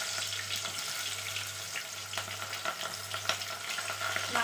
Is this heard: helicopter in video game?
no